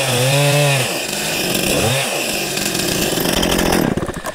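A chainsaw cuts into a dead tree up close, its engine revving and dipping in pitch as the chain bites the wood, loud and continuous with rising rasping texture toward the end.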